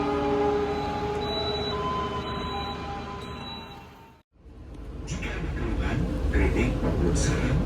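The KA Gumarang train departs Surabaya Pasar Turi station with a steady low rumble, a few short high tones sounding early, then a brief dropout before the loud rolling noise of the moving train builds again.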